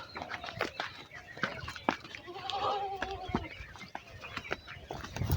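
A goat bleats in short wavering calls at moderate distance, with scattered clattering and knocking sounds around it.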